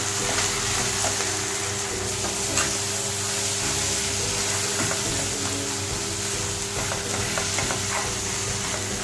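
Onion, tomato and cashew paste with coriander sautéing in a pan over low heat, giving a steady close sizzle with faint stirring scrapes throughout and no voices.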